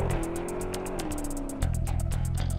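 A Dodge Challenger Hellcat laps a race track, its loud supercharged engine revving and climbing through gears, with a distinct upshift drop partway through, heard close from inside or near the car without talk.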